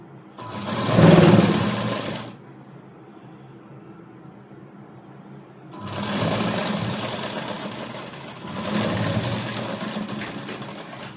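Sewing machine stitching a frock, running in two bursts, first a short run and then a longer steady whir after a quiet pause, loud and close with no talking.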